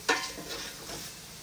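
Paneer pieces fry in oil in a pan, a scraping stir striking first, then a soft continuous sizzle close by, brief and without talking.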